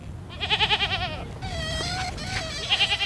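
Sheep and goats bleat repeatedly at a desert well where Tuareg herders water their livestock, several wavering calls overlapping in close succession with a busy background of animals and activity.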